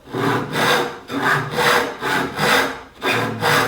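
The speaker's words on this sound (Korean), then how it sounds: "이런 톱질은 별로 좋은 톱질이 아니에요" A hand saw cuts through wood with poor technique in steady back-and-forth strokes, about eight rasping passes, loud and close.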